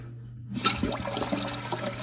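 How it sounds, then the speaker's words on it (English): A toilet tank starts refilling once its water supply valve is turned back on, a sudden steady rush of water close by after a moment of near silence. "So we'll go ahead and turn the water back on"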